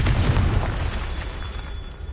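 A Confringo fire spell explodes in the Hogwarts Legacy video game: a loud, deep boom bursts at once, then trails into a rumbling, fading roar.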